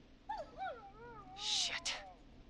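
A dog whimpering in the Killer Frequency video game, a neighbor's dog heard carrying at night: a series of rising and falling high whines, some warbling, with a brighter, louder burst in the middle.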